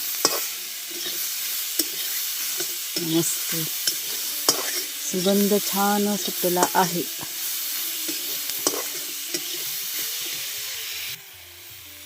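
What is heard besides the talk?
vegetables sautéing and sizzling in pan on wood stove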